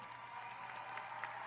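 A graduation audience claps in a steady, faint patter of applause, heard from a distance in a large hall.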